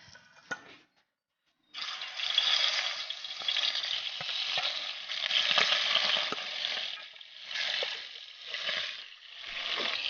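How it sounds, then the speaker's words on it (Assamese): Fish pieces crackle and sizzle steadily in hot oil in a kadai, starting after a brief quiet gap, with a continuous close hiss that swells and eases over several seconds, with no talking. "কেৰাহীত ইয়া তেল গৰম কৰি ললো আৰু ইয়া মাছ কেডেখৰ ফ্ৰাই কৰিম"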